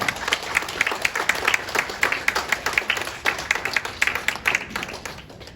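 Audience at a North Korea Freedom Week finale and sponsors' night applauding in thanks: loud, close clapping with distinct individual claps pulsing through a dense crowd of hands, steady for several seconds.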